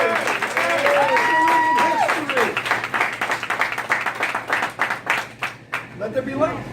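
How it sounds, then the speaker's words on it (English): Audience applause and cheering for John and Lola Biantek, a dense wash of clapping with crowd voices and whoops over it, tapering into scattered claps. "can we have a big round of applause for John and Lola Biantek?"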